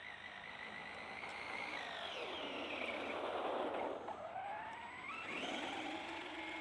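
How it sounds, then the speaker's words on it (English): A Traxxas Rustler 4X4 RC car runs at full throttle on wet ground, its high electric motor whine rising and falling as it swoops past, loudest mid-run, with no voices. "Full throttle coming up at you"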